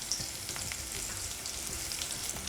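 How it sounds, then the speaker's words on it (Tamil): Garlic frying in oil for a garlic pickle, a steady dense sizzle with faint crackles and an occasional stir scrape, close and continuous throughout with no talking. "நல்லா பொரிஞ்சு ப்ரௌனாகிட்டுருக்கு"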